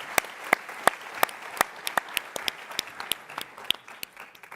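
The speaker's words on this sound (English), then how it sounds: "give them a round of applause" Applause from a conference audience after a startup pitch at a tech event in San Francisco, with sparse, distinct handclaps ringing out at an uneven rhythm over a soft bed of clapping from the room.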